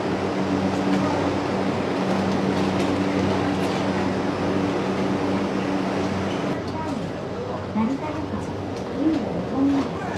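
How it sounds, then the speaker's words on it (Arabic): A Japanese local commuter train rumbles steadily at a station platform, a continuous mechanical drone with a faint tonal hum, while birds coo nearby and people talk in the background. "هذا هو القطار الياباني تبع المواصلات الداخلية"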